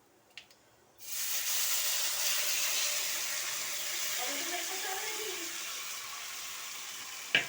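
Hilsa fish coated in spices is dropped into hot oil seasoned with black cumin, setting off a sudden loud sizzle that settles into a steady close hiss and crackle.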